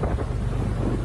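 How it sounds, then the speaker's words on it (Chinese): Rough, choppy sea waves pound the hull of a rocking tourist boat, heard as a heavy, continuous low roar mixed with gusting wind buffeting the microphone, loud and close. "一波接着一波，狠狠朝船身拍打，激起阵阵浪花"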